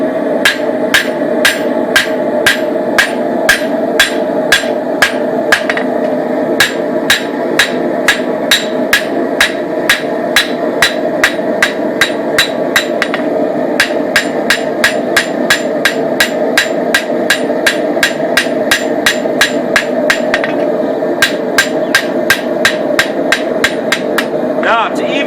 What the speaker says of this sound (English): Okay, so now we're going to forge out the edge bevel.